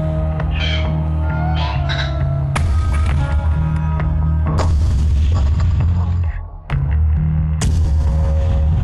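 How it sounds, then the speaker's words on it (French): A blast test on a textile container built to contain explosives sends out loud, booming, broadband bursts that crash repeatedly over a dense, constant roar. One brief dip in level comes before the noise surges back. "La caméra des scientifiques filme l'explosion au ralenti."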